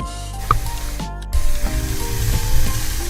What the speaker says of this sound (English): There, so you can hear the fucking sizzle.